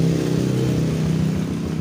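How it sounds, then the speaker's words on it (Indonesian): A Yamaha Vega ZR motorcycle engine, just repaired after a slipping kick starter, runs and revs close up with a steady, loud mid-pitched drone and no speech. "sekarang motornya udah bisa diengkol kembali, udah bisa hidup kembali"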